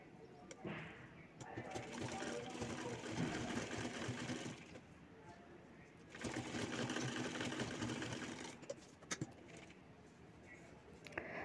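A sewing machine stitches the folded fabric side edges of a potli bag in two sustained close whirring runs separated by a pause, with faint voices and a few small clicks in between.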